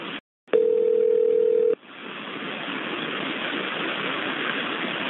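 Telephone call-transfer tones on a dispatch line: a brief break, then a steady single dial-type tone for about a second, followed by a continuous low hum with no voices.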